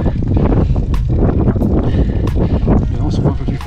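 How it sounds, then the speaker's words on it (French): Strong wind roars and buffets the microphone during a bicycle climb up the Col du Tourmalet near the summit, a loud, continuous rumbling gust with sharp crackling bursts throughout. "Le vent souffle un peu plus fort ici."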